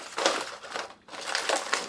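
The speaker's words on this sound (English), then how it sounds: "And we're going to pop 1 of those on each pouch" A 300cc oxygen absorber packet dropped into a mylar food-storage pouch gives a continuous crinkling, rustling crackle of foil plastic, close and moderately loud, with a brief pause midway.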